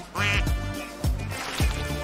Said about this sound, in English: Oh, duckies! A duck family!